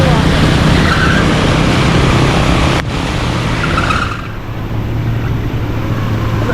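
On a flooded Karachi street after heavy rain, a car engine revs hard in a loud, sustained roar with water and road noise, and voices talk over it.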